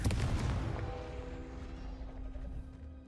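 Confringo blasting spell in the game Hogwarts Legacy, a single heavy close explosion with a deep boom that rumbles and fades over a few seconds.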